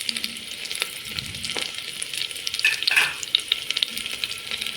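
Onions and green chillies sizzle in a pan under active stirring, a bright crackling hiss broken by several clattering spatula scrapes, the strongest burst coming around the middle.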